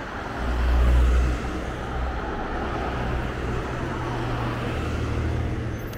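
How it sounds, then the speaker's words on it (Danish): Steady traffic on roads about 15 km from Copenhagen in Denmark, with a continuous low rumble of cars rolling past and a louder vehicle swelling close by near the start, heard during a sunny December walk. "Så der er mange biler over det hele."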